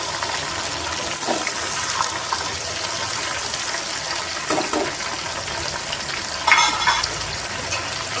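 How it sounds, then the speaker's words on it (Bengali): Pointed gourd pieces frying in oil in a pan, a steady close sizzle and crackle with occasional bursts of spattering and stirring, no talk. "পটলগুলো ভাজা হতে থাক"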